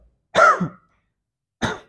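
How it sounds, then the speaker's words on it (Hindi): Two separate coughs, close and fairly loud, with a pause of about a second between them, performed as part of a pelvic floor exercise to clear leftover urine drops. "अब इस पोजीशन पे आप खांसेंगे"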